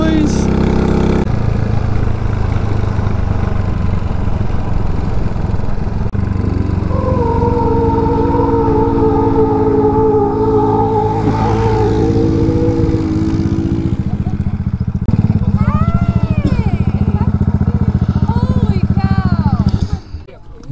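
A 223cc RPS Condor motorcycle climbing a big hill in fifth gear, its engine droning loud and steady close up, rising and shifting in pitch, with voices and wind noise over it.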